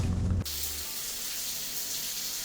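A shower's water cuts on abruptly and keeps running as a steady, hissing spray, moderately loud and unbroken, with no one speaking.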